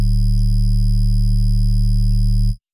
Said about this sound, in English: make the really cool, screechy, condensed sub noises that you also hear in songs